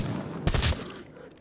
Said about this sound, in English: Who are you shooting at, buddy?